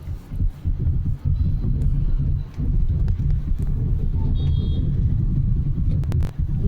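Steady low rumble of a car being driven along a road, engine and road noise continuous and fairly loud throughout, with a brief thin whine partway through.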